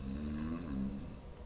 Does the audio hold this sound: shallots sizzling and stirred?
no